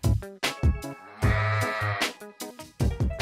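Sheep bleat repeatedly and close by, several wavering calls in quick succession with short pauses between them.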